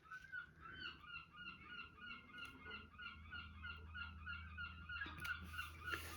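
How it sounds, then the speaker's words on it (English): Seagulls call repeatedly in a loud, overlapping chorus of honking cries, with a steady low rumble underneath. "Sorry for the noisy seagulls."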